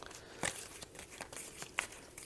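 Flamme Rouge board game cards being shuffled by hand, with faint, close papery riffles and crinkling snaps in quick irregular bursts.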